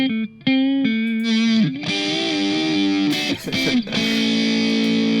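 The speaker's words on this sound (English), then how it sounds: "Then we bring the distortion in." Electric guitar played through a Boss DS distortion plugin: a loud, saturated distorted tone with sustained notes and chords that shift pitch, briefly dropping out early and dipping again near the end.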